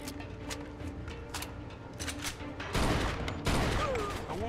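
Gunfire in the PC game Mafia II: a dense fusillade of rapid shots with sharp bursts, growing louder near the end, under game sounds and faint voices.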